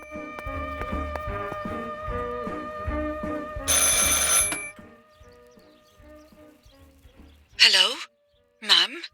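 A telephone rings in the video game Martha Is Dead, with a clear bell ring amid background music, followed by two short separate rings after a quiet gap.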